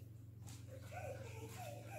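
A dog whimpers and whines faintly with a few short, rising and falling tones over a steady low hum, somewhat distant, no clear barking.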